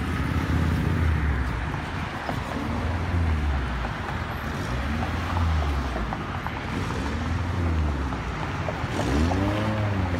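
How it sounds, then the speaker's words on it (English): Honda Prelude engine idling steadily, a continuous low rumble with slight periodic swells, close and fairly loud throughout with no talking. "Listen to the idle."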